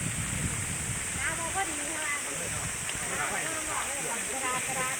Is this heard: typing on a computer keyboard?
no